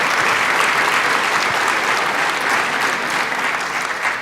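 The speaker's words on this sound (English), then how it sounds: "let's give a big round of applause to all of our new members and welcome them" At a State of the City 2023 gathering in Anacortes, the audience gives new members a big round of applause, a loud, dense, even burst of clapping sustained for several seconds.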